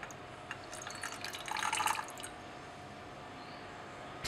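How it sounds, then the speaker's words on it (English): Reaction mixture from a Henry condensation of vanillin and nitroethane poured into a beaker holding 35 grams of ice: a brief, fairly quiet splashing and trickling burst of liquid, with faint drips before and after. "Now add the reaction mixture to this."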